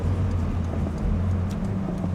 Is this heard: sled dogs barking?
no